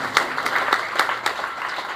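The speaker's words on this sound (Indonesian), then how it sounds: "Beri tepuk tangan terbaik buat Tuhan Yesus." A church congregation claps together, a moderate burst of fairly rhythmic applause with distinct claps audible in the mix, heard at a short distance.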